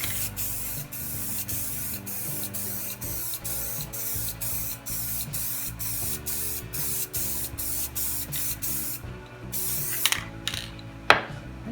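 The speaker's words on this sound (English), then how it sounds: "now I'm ready to put on some of this flat, just kind of give it a dust coat" A spray can or spray gun lays a flat dust coat of finish onto a carved wreath, producing a steady, loud, close hiss that runs almost continuously with rhythmic pulsing, then breaks into short spurts near the end.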